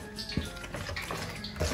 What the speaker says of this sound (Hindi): थोड़ा सा पानी डाल के अच्छी तरह इसको मिक्स कर लें